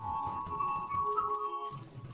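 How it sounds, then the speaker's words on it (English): Glass being pierced by an arrow in an action film scene, with a bright ringing, clinking shatter tone that lingers under a dense, loud soundtrack throughout. "An arrow pierced the glass."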